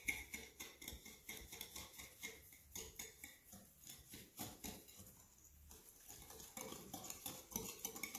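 A hand whisk beats eggs and sugar in a bowl, making a steady rhythmic clatter and tapping of wire against the bowl. It is close and fairly quiet and carries on without talk.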